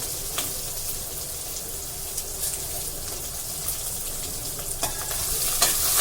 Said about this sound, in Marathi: आपण परतून घेऊया गॅस बरं का मंद आहे मिरची चांगली पांढरं होऊन द्यायची आहे आणि कांदा